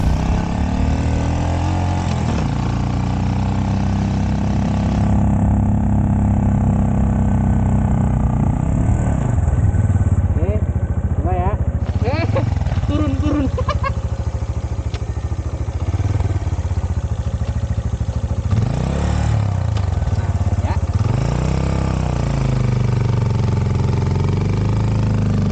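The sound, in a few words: CFMoto Papio XO-1 motorcycle riding uphill with passenger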